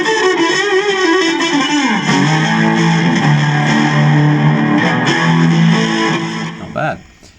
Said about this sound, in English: Or you can put it right up into the distortion end of things.